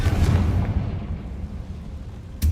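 Bombarda and Confringo spell explosions in Hogwarts Legacy: a heavy rumbling boom decaying over two seconds, then a fresh sharp blast at the very end.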